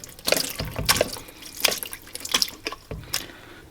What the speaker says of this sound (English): So I'm going to go drain some of that liquid.